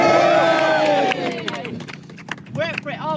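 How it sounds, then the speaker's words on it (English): A crowd at a Labour Party political rally cheers and claps, loud and dense at first, then thinning into scattered whoops and applause as the noise fades. "Give yourselves a cheer."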